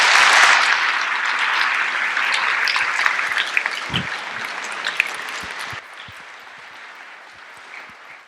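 Applause at a Veterans Day ceremony starts loud and full, then gradually thins into scattered claps and a few sharp knocks as it fades out.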